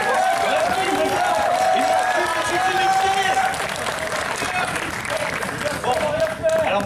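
An audience at a BronyDays convention in Nantes claps and cheers steadily throughout, with voices and a sung or shouted melodic line running over the applause.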